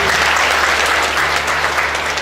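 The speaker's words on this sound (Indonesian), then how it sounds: "Tepuk tangan bagi Tuhan Yesus." A church congregation breaks into loud, sustained clapping that stays dense and even throughout, with no voice on top.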